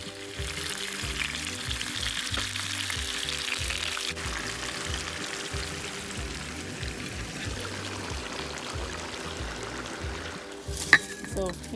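Rohu fish frying in oil in an outdoor garden setting, a steady broadband sizzle running the full length with a brief sharp clink near the end; no speech.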